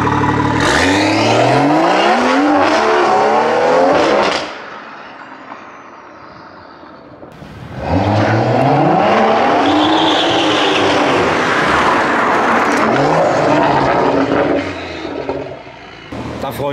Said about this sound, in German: Ich zieh das zurück, dass ich gesagt habe, dass mein Auspuff laut ist.